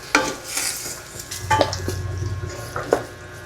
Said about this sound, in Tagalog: Haluin ko na po.